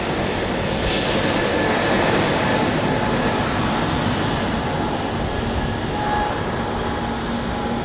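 Airbus Neo airliners departing at Heathrow, a continuous broadband engine roar holding steady and fairly loud, with no voices.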